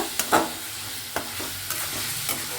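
Ginger goes into a hot pan for capsicum rice and crackles in a soft, steady sizzle. A spatula scrapes and stirs nearby, making several short clacks at irregular intervals.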